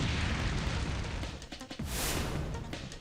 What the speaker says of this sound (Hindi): यूक्रेन की सेना ने गोला बारूद से लैस रूस के अत्याधुनिक टैंक को धमाका करके तबाह कर दिया